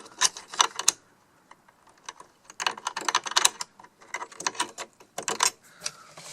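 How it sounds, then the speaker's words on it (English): A sewing machine mechanism is worked by hand as the needle is raised and the shuttle is refitted, giving faint irregular clicks and ratcheting taps in short bursts. "let me just raise the needle a little bit so I can actually put this shuttle back just a little more"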